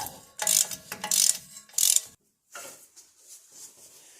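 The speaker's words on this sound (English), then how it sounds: "Kind of just work it back and forth here a little bit with a ratchet." Ratchet wrench worked back and forth on Jeep TJ front suspension, several bursts of quick clicking with short pauses between, then quieter scattered metallic clicks and handling noises, close by with no talking.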